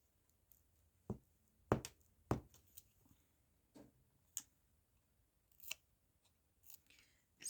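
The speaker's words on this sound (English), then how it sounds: "And just trim off the excess." Scissors trimming excess paper on a craft tag, with a series of sharp, close snips spaced irregularly through a quiet room.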